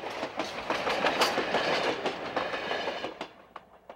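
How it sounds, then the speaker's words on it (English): A steam train of the Grand Canyon Railway rolls past close by, loud rumbling with rhythmic clickety-clack of wheels, fading slightly toward the end. "the train all too quickly disappears off in the haze and distance"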